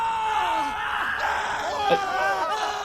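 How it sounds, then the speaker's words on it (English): A creature in The Witcher 3: Blood and Wine lets out a layered, sustained scream of many overlapping voices, a steady, dense wail that holds for about three seconds. "You are screaming with a multitude of voices."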